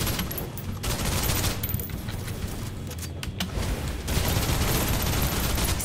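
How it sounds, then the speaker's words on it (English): Sustained suppressive gunfire in the video game Snowbreak, a dense rattling barrage of rapid shots that runs nearly unbroken for several seconds with brief dips, loud and close. "suppressive fire"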